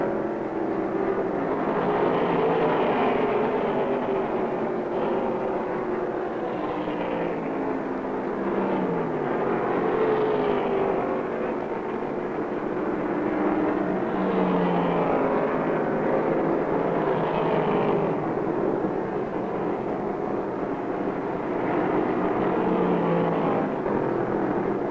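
1969 NASCAR stock cars thunder around the Atlanta 500 track in a continuous loud engine roar, their pitch rising and falling as cars pass, with no talk.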